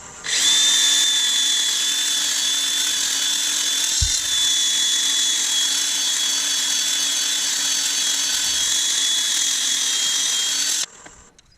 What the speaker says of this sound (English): I'm going to do a bit of sanding now.